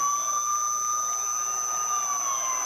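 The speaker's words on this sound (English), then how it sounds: "the ring entrance music of Big Papa Punk Scott Steiner, that very familiar siren, interrupted Kurt Angle" A loud, steady siren wail from Scott Steiner's ring entrance music at a TNA wrestling event, holding a sustained tone with a slight falling sweep and no talking over it.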